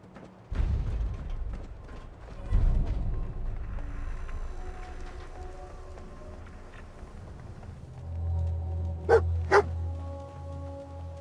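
A dog barks in Fallout 4: a few sharp, close barks early on, then two quick yips near the end over a low mechanical hum and game ambience.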